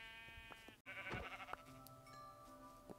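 A sheep in the video game Minecraft bleats in short, nasal cries, a few calls close together within a couple of seconds, quiet and alone.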